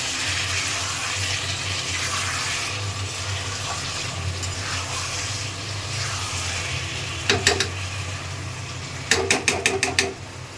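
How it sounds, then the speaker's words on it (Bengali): Hot water is poured into a cooking pan of potatoes and pointed gourd, making a steady liquid wash and sizzle over a low hum, with short, sharp clatters near the end. "আর ঢেলে দিয়েছি জল, গরম জল দিয়েছি"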